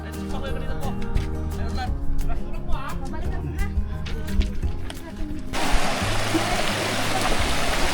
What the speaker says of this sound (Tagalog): So may tubig na dadaanan dito sa unang pagbaba ng semento.